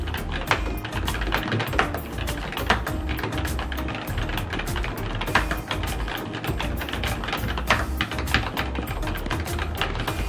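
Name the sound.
typing on ASUS ROG Claymore II mechanical keyboard, Cherry MX Brown switches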